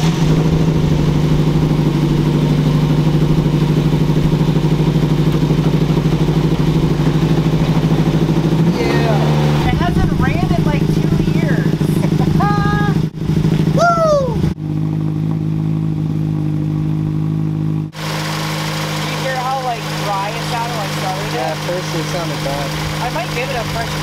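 Ford Focus engine running after two years unused, a steady loud idle with dry top-end chatter and a brief rev midway; people talk over it.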